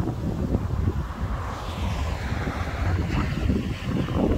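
Strong wind roars steadily and buffets the microphone during a severe supercell thunderstorm near Voiron, Isère, in October 2022, a constant rushing blast with no talking.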